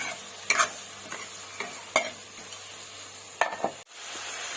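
Tomatoes with a little rock salt fry in a pan while a spoon scrapes and stirs them in irregular sharp strokes over a soft, steady sizzle, heard close with no talk.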